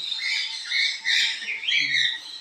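A bird lets out a few harsh, raspy squawks in quick succession, close and fairly loud, with brief gaps between calls.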